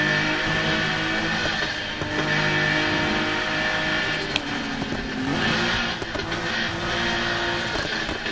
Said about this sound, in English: The fucking turbo sounds louder than the fucking engine.